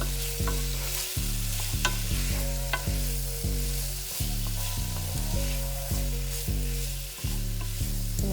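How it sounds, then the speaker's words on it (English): Tomatoes added to a pan with chicken sizzle loudly and continuously, a dense frying hiss with occasional sharp clicks, heard alone over a steady rhythmic background beat. "And now you're gonna add your tomatoes because that's the least amount of time it takes to cook anything."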